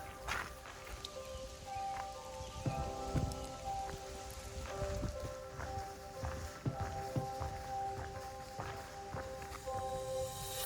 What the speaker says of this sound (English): Rain's dying off a bit